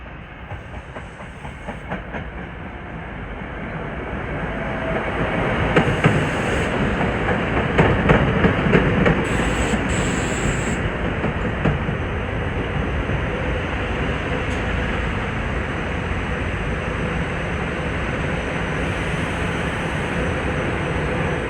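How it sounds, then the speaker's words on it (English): SEPTA train 440 to Warminster, made up of Silverliner 4 cars, approaches Wayne Junction with a broad roar and rhythmic clickety-clack of wheels over rail joints, swelling louder and holding steady for a long stretch. "Approaching now is train 440 bound for Warminster with Silverliner 4s."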